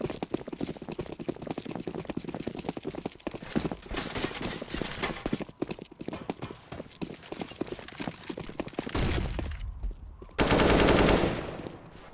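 Pistol gunfire in Counter-Strike on the Nuke map during a tournament match: a dense run of sharp, quick shots and clattering footsteps at moderate loudness, ending in a short, louder burst of noise.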